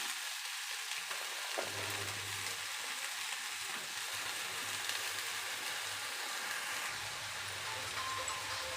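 Onions and cleaned stem amaranth greens fry in a pan, a steady soft sizzle with a low continuous hum underneath, fairly quiet throughout.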